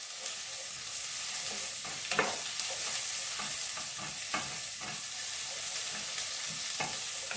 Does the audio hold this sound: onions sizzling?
yes